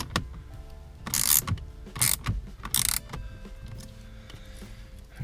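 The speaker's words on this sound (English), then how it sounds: "We got the bolts back in. Get those in there nice and tight." A ratchet clicks rapidly in several close bursts while tightening bolts on a Camaro dash panel, with short pauses and light handling clatter between bursts.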